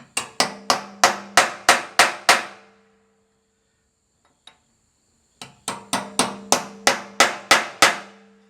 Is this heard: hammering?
yes